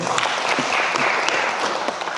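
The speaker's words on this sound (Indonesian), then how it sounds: "Boleh tepuk tangan ya?" A crowd at a creative city assessment event in Samarinda claps in a brief, dense burst of applause, loud and even throughout.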